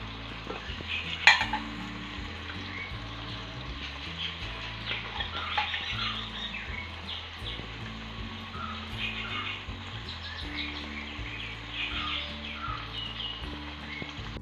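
Onions and tomatoes frying in a pan as masala for chicken kadai, a steady sizzle with scraping and clinking of a spoon against the pan, occasional louder knocks, no speech.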